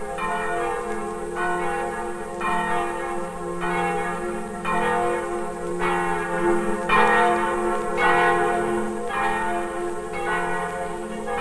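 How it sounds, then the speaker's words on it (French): Church bell ringing out for Christmas Eve in a French town, a steady rhythmic peal with repeated strikes every second or so, loud and close, ringing continuously without voices. "Le son joyeux d'une cloche"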